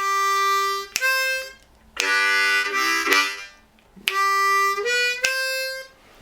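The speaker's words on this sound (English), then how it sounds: "Draw, blow, draw on holes 1, 2, and 3. So you're going to do that, and then you're going to play lick 1." Harmonica chugging with draw-blow-draw on holes 1 through 3, followed by a short lick; sustained reedy chords in two phrases separated by a brief gap, loud and close with no talking.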